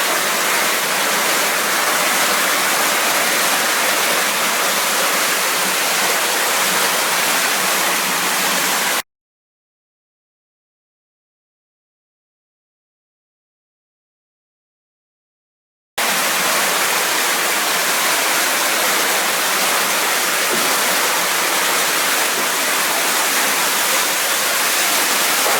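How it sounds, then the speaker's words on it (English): Heavy water rushes down through a narrow channel by a high quartz vein, a steady, dense roar that stops abruptly for several seconds mid-way, then resumes just as loud with no voices. "see a large amount of water going down there"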